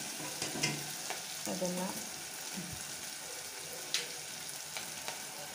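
Chicken curry masala frying in a pan for a restaurant-style curry, giving a continuous soft sizzle with scraping stir strokes, while a voice speaks briefly over it.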